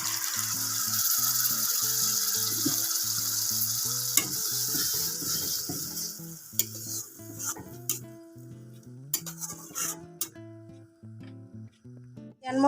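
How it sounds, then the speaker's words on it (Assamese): Spices for a chicken dish fry in a pan as a spoon stirs and scrapes through them in repeated strokes, with a sizzle fading into scattered clinks, all under background music. "লৰাই ভালকৈ মছলাখিনি ভাজ খাব দিম।"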